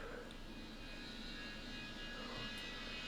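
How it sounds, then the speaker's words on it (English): Airliner taking off at Raleigh-Durham airport in the game Tower Simulator 3, a continuous loud jet roar and rushing hiss that hold steady throughout, with no talk. "We hear the plane taking off."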